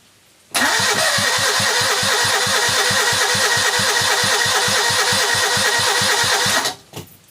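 A Citroën 2CV twin-cylinder engine cranks with a steady rapid rhythm for about six seconds, catching and firing unevenly throughout, loud and close, then cuts off abruptly.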